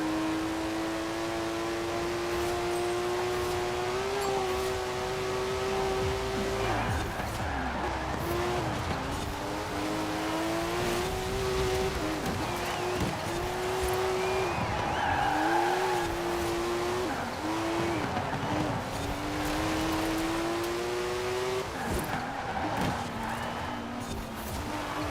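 A TVR sports car engine in Forza Horizon 4 revs hard and climbs through the gears, a loud continuous harmonic whine with brief dips at shifts and some tire squeal, no speech over it.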